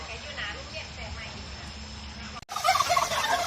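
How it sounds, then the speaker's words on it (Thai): Turkeys gobble in a loud burst near the end, after a stretch of quieter outdoor background, at a garden coffee farm in Ubon Ratchathani, Thailand. "มาดูไก่งวงครับ"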